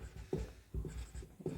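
A pen scratches out a math solution on paper, giving soft, close strokes in short irregular bursts with small gaps between them, quiet and with no talking.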